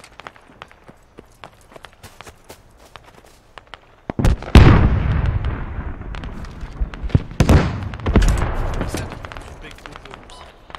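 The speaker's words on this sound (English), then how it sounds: "there's an artillery strike dropping on Crosby right now" Artillery strike in the military shooter Squad: scattered distant pops and footsteps, then two heavy close explosions with long rumbling decay a few seconds apart, voices faintly present.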